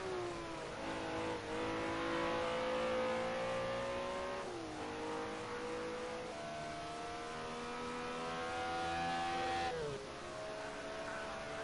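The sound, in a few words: BMW M1 Procar race car engines in a racing video game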